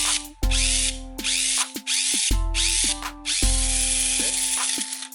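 A Tamiya Mini 4WD AR chassis motor and counter gear spin up in a high, buzzing whine, cutting on and off in several short bursts with clicking stops between, close and loud.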